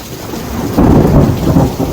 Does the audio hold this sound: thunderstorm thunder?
yes